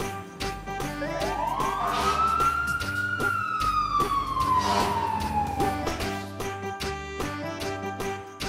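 A single fire engine siren wails, rising slowly then falling in a long sweeping tone, fairly loud over a steady engine rumble.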